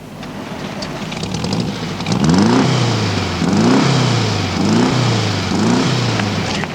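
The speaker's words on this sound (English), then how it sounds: "we talk to people about the world's most loved car, the Volkswagen Beetle" A Volkswagen Beetle engine revs in four repeated rising bursts, each climbing then settling into a steady idle hum, fairly loud and close with no voices.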